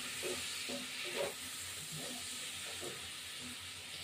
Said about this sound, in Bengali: হলুদ গুঁড়ো, এবার এটা নাড়তে থাকবো।